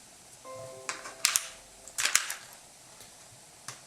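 A few sharp plastic clicks and snaps, close by, spaced irregularly over a few seconds, as two AAA batteries are pressed into the compartment of an iClever IC-BK01 mini Bluetooth keyboard.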